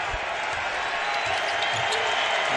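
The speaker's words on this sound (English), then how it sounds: "You can hear the applause" A crowd applauding in a basketball arena, a dense steady wash of clapping and cheering throughout, loud and continuous with low arena rumble underneath.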